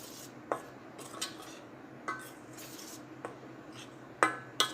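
Flour mixed with salt and black pepper powder in a bowl for crispy layered puri, a spoon giving sparse, light metallic clinks and taps against the dish in a quiet room, no voices.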